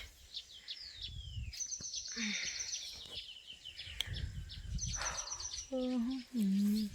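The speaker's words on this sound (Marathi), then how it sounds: "चिमण्या बिमण्या वरडायला लागल्यात बघा" Sparrows chirp outdoors in a series of high, quick calls, moderately close, while someone talks over them and a lower cooing call sounds near the end.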